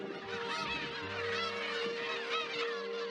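Black-tailed gulls calling at their breeding colony on Kabushima Island, Aomori, Japan: a loud, dense chorus of overlapping nasal, honking cries from many birds close by, without talk.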